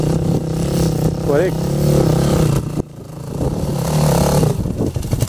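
A motorcycle tackles a chicane trial course, its engine holding a steady, close droning hum that dips briefly midway, with people talking over it throughout.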